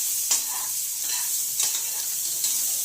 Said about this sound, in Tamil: எண்ணெய் நல்லா காஞ்சி வந்ததுக்கப்புறமா நம்ம வெட்டி வச்சுருக்கிற வெங்காயத்தையும் அந்த எண்ணெயில் போட்டு பச்சை வாசனை போகிற வரைக்கும்